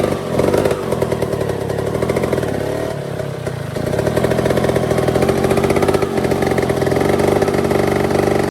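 A motorcycle engine revs hard and steadily while the bike climbs a slippery rock step off-road, a loud, close, continuous drone with surging throttle and mechanical clatter, no talking over it.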